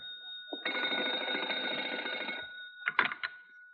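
An old-fashioned telephone bell rings in a radio drama set at a hotel, one long steady electric ring followed by a short pause and a couple of brief clipped rings, clear and alone.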